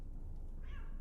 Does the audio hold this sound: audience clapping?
no